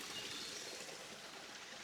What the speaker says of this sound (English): here's the intersection with the creek. This is the same creek I get all my water from